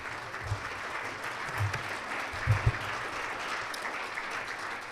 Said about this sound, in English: give Jim a really good round of applause.